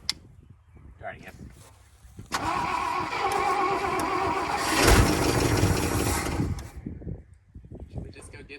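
An International LoadStar grain truck engine cranks with a starter whine, then catches and roars loudly for a few seconds before dropping back. People talk nearby before and after the run.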